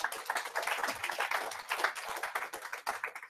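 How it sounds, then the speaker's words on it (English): Audience applause for a speaker at a London web performance meetup, a steady patter of many hands clapping for about three seconds, fairly close and dense without voices. "let's give James a round of applause"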